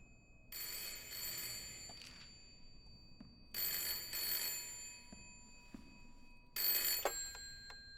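A telephone inside a lighthouse rings in three loud, bright bursts of bell ringing separated by pauses, with quiet room tone between the rings and no speech.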